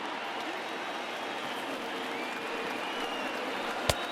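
A stadium crowd of over 39,000 in the MLB The Show baseball video game applauds and cheers in a steady, distant wash of noise, with one brief sharp click near the end.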